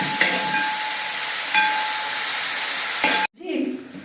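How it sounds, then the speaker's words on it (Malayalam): Onions, shallots, curry leaves and garlic sizzle loudly in a hot pan for Angamaly-style beef, a steady frying hiss that stops abruptly near the end and gives way to a softer settling sizzle. "സവാളയും ചെറിയ ഉള്ളിയും വേപ്പിലയും വെളുത്തുള്ളിയും എല്ലാം കൂടെ വെന്ത് മൊരിഞ്ഞ് പാകമായിട്ടുണ്ട്"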